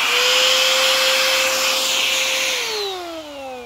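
A vacuum cleaner under repair runs alone with a loud, steady whine that holds level, then drops in pitch near the end as it winds down.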